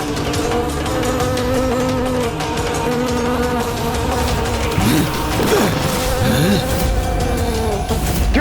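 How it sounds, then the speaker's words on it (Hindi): A dense, loud, steady buzzing of countless insects fills the whole stretch, with sweeping whooshes and a few dramatic effect hits layered over it midway. "ये भिनभिनाहट जैसे असंख्य कीट एक साथ ध्वनि उत्पन्न कर रहे हैं"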